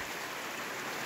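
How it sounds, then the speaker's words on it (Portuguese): Heavy rain pours down in rural Mogeiro, Paraíba, a dense, even hiss of water falling without a break, heard alone for a brief moment. "Bastante chuva, viu?"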